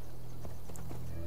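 Horse hooves clip-clop in Assassin's Creed Valhalla on PS5, a few quick close hoofbeats over a steady low game ambience.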